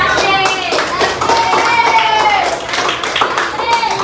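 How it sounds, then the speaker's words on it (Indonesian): Classroom applause for a group of students, a burst of many hands clapping together with children's voices mixed in, loud and close for the whole stretch. "berikan aplaus dulu untuk kelompok"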